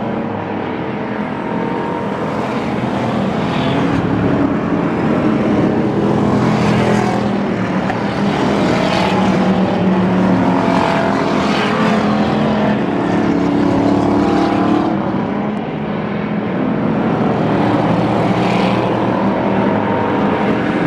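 Stock cars racing on the Pearsonville, California track during the Turkey Classic, a steady loud roar of several engines blending together, with rising and falling pitch as cars pass, continuous with no talk.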